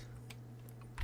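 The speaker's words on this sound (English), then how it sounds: "we're going to type" A few quick, light keystrokes on a computer keyboard, close and isolated over a faint steady electrical hum.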